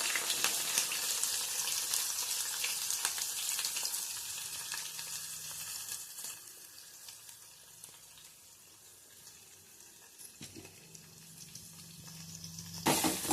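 Onions fry in a pan after green chillies go in, a broad steady sizzle that fades slightly midway and then swells again, with a few faint clinks and knocks near the end.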